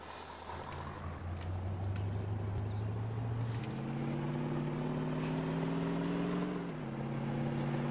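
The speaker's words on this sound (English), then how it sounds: "This truck sounds so good." A heavy video game truck engine rumbles steadily at close range, its low drone shifting up in pitch partway through, with a brief hiss near the end.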